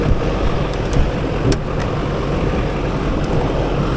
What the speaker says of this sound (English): Duramax under the hood though, running great after we got the aftermarket fuel system primed